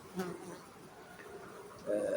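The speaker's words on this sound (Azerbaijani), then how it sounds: "Baxın, arılarımız çalışır." Honey bees at a hive, a faint low buzzing drone under quiet background noise, with a louder humming pass near the end.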